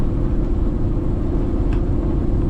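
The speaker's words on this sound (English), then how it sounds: "you could hear the whole truck" A truck rolling over rough road, a loud continuous low rumble with steady rattling vibration from inside the cab, no voices.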